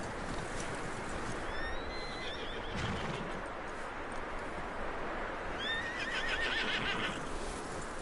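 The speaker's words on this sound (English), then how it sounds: "That looks like a decent horse." A horse in the video game Red Dead Redemption whinnies twice, high and shrill, over a constant rushing background of wind-like noise, with faint hoof sounds in between.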